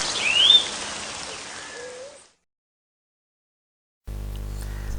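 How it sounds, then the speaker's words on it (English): Steady rain patters for about two seconds, with a few chirping birds over it. Then comes a stretch of silence, and a low steady hum begins. "Look, it's starting to rain."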